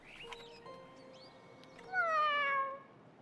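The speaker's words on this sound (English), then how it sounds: "Oh hey, better cat sounds." A cat meows in the video game Honkai Impact 3rd, starting with short chirpy calls and swelling into one long, loud, drawn-out meow near the end, with no speech over it.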